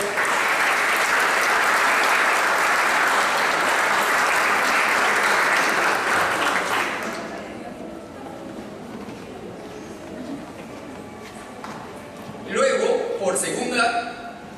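Loud, sustained applause from a panel discussion audience that fades after several seconds, followed by quieter murmuring and a brief burst of clapping near the end.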